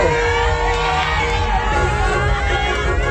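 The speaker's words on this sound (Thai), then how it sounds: "ขอส่งเสียงเชียร์มาหน่อยแล้ว" A crowd at a Thai pageant or contest event cheers and shouts steadily, dense whoops and yells blending with children's voices and a hum of background music throughout.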